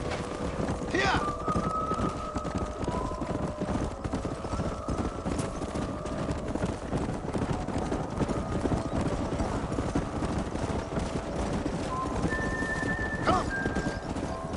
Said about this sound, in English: Paul will be real happy if we can wrangle some horses.